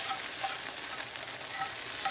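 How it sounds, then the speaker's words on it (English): Brief metallic scraping and clinking of a metal spatula against a metal skillet over a steady sizzle of frying scrambled eggs, close by. "Sorry about the noise with the metal on the metal here."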